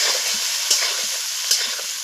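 Boiled potato and soybean stir-fried with onion, a close steady sizzle with two sharp spatula scrapes and soft stirring strokes, no voices.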